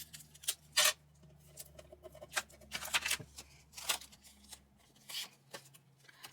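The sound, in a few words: adhesive tape being pulled and handled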